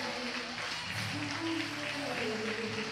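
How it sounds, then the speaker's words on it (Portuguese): A church audience applauds for Jesus at an evening service, steady dense clapping held at an even level throughout, with some voices mixed in underneath. "Quem pode aplaudir a Jesus nessa noite?"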